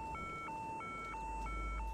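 An alarm goes off in the video game Hitman, a two-tone electronic beep alternating in a steady, repeating rhythm, faint and without talk.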